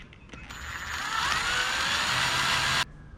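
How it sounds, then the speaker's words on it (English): A steady power drill whirs continuously for a few seconds, widening a broken-bolt hole in a kayak rudder, its pitch rising slightly as it bites into metal, then stops abruptly. "I still have to drill it out to the larger size"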